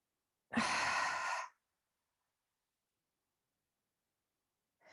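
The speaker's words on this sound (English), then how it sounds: "let's take a full breath out" A single full, breathy exhale through open lips during a guided yoga session, loud and close for about one second, then silence with a faint start of another sound at the very end.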